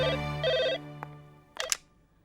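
A telephone rings indoors in a Hindi film family scene, two bright electronic ring bursts close by, followed by a couple of short clicks and then quiet.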